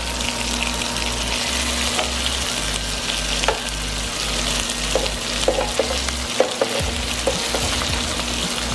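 Chicken Milanese cutlets fry in a pan with a steady close sizzle, scattered crackles and a low hum underneath, with no voices.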